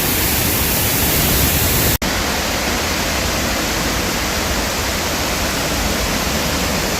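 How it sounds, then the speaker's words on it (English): Waterfall and river in Costa Rica roaring as a dense, steady hiss of falling and rushing water, loud and close, with one brief dropout around two seconds and no talking. "Just showing more of the waterfall and the river."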